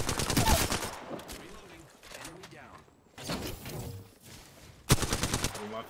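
Apex Legends gunfire, likely a Devotion LMG, comes as loud rapid bursts of automatic fire at the start, in the middle and again near the end. Quieter gaps and clatter fall between the bursts, and a person talks in places.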